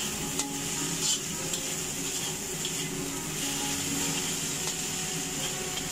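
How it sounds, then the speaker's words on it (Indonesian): Rice and noodles stir-fried with sweet soy sauce, spring onion and chilli for sego mawut, a steady close sizzle with faint intermittent clicks of a spatula stirring in the pan, no talk. "Kita aduk-aduk sampai merata dan matang ya."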